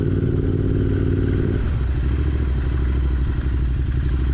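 A Royal Enfield Continental GT 650 motorcycle rides out through a Dubai community, its engine note loud and steady, shifting to a lower, rougher throb partway through with a continuous rumble throughout.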